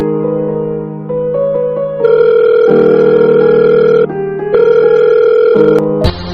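A loud electronic telephone tone sounds steadily while a call is being placed, holding a sustained pitch that steps up and down in long blocks and ends with a sharp click.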